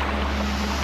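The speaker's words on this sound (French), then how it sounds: "Le bateau de l'empereur!" A low, steady rumble of a boat moving on water, with wind noise washing over it throughout.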